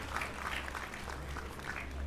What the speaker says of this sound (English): Can we clap our hands for him?